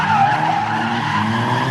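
A car drifts through a gymkhana course with its tires skidding in a loud, sustained squeal over a steady engine roar, close and continuous for the whole moment.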